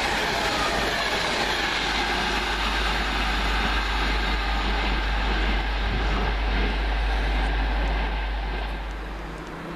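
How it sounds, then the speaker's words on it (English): A London Midland service from Birmingham New Street pulls into a station, its loud, steady rumble and rail noise filling the scene before easing slightly as it slows near the end. "Right, here comes my train"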